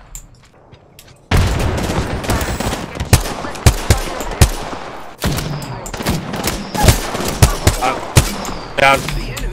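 Enemy gunfire in the Apex Legends battle royale game: dense, rapid bursts and overlapping volleys of shots crackling loudly for most of the stretch after a quiet start, with a voice talking faintly underneath.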